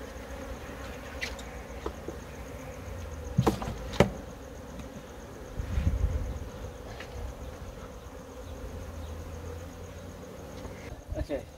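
Honey bees buzz steadily around a five-frame nuc hive box during rehiving in South Africa, a faint continuous hum with a few louder buzzing passes close by.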